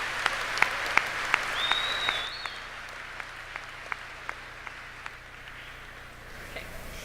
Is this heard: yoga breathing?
no